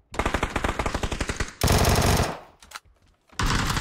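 Automatic gunfire in a shooter video game, rapid bursts of shots in a steady rattling rhythm, then a sustained loud blast and a final burst, close and loud with no talk.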